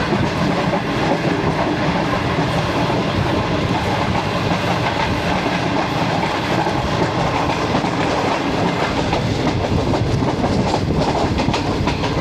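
Express train passing on the main line at a railway station in Pakistan, with loud continuous rumbling and rhythmic clickety-clack of wheels over rail joints close by, steady throughout with no talk.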